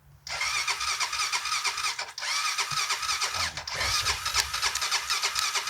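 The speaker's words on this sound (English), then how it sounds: "So why don't we start this thing? Let's start this thing up." A Honda 400EX ATV engine cranks through a starting attempt, a close, loud, churning mechanical whirr that runs continuously for several seconds with brief stumbles.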